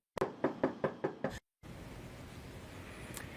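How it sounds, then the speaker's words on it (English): A run of six sharp, evenly spaced knocks on an apartment door, close and distinct, followed by a brief silence and then steady background hiss. "ABC 13's Mai Shea went to his apartment and knocked on the door."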